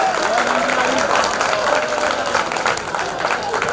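An audience at a mushaira poetry gathering during the 150th Urs in Kamptee, 2023, applauds loudly and without pause, a thick crowd of clapping hands throughout.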